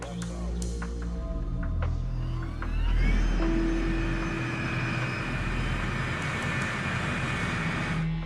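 A Boeing 747 freighter taxis on a crowded military airfield taxiway, its engines giving a steady loud roar and whine that swells slightly partway through, with faint tonal sweeps and no speech.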